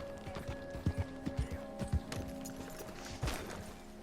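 A horse's hooves clop in Red Dead Redemption 2, a series of soft, uneven thuds at close range over low background game ambience.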